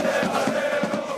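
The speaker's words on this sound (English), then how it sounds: "The jubilant crowd massed outside the Parc des Princes Stadium in Paris to see the Argentinian star" Jubilant football fans massed outside the Parc des Princes stadium in Paris, welcoming Lionel Messi with a steady roar of crowd noise and rhythmic chant-like swells, loud and continuous without a single clear voice.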